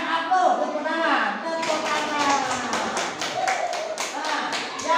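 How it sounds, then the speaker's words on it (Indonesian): Classroom audience applauding together, a dense run of many hands clapping that swells partway through and keeps going at close range, with some voices mixed in. "berikan aplaus, tepuk tangan"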